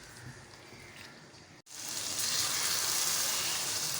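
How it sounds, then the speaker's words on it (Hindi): Two medium potatoes hit hot oil with masala over a high flame, bursting into a loud, steady sizzle after a brief quiet pause; the frying crackles evenly and continues without talk. "फ्लेम को हम हाई करेंगे और इसको अच्छे से भूनेंगे मसाले के साथ।"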